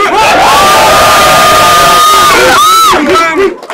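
A rap battle crowd at a battle league event cheers, whoops and shouts loudly and continuously, a dense roar of voices with rising yells near the end.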